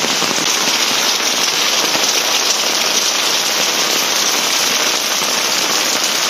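Heavy rain pours down steadily, a dense, loud, close hiss of drops hammering surfaces without a break and with no voices.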